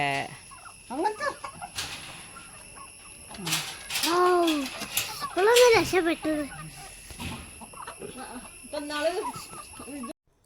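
Chickens cluck and call repeatedly while being fed vines, loud and close, with a person talking intermittently over them.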